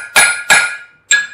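A ball peen hammer strikes a rivet three times beside a coal forge, two quick ringing metallic blows followed by a short pause and a third, each loud and close with a bright clanging ring.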